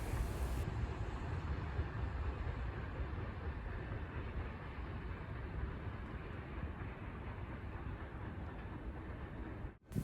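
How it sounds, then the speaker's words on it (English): Locomotive 5315 rolling past Main Street, a loud, steady broadband rumble and rail roar that holds nearly constant for the whole span before cutting off abruptly at the very end. "And as we see the locomotive now passing Main Street"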